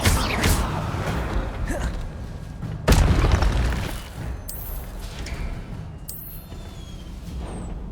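Fiery spell blasts from the wizarding game Hogwarts Legacy, the Confringo and Incendio curses, go off as heavy booming bursts, one at the start and a bigger one a few seconds later, each trailing into crackling rumble.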